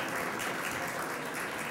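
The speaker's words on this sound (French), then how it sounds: "une bonne main d'applaudissements pour vous" Audience applause at the launch of a regional chamber of commerce excellence award, a steady, dense wash of clapping that fills the room evenly and continues without a break.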